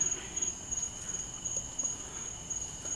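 Night-time outdoor ambience with a steady, high insect-like chirring and faint scattered calls that could be frogs or birds, all quiet and distant with no talking.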